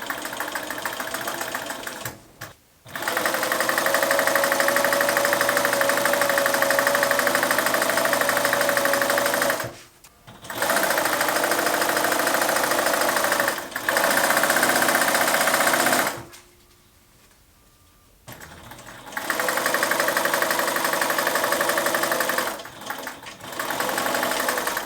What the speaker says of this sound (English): I'm just sewing everything together with a 1/2-inch seam allowance.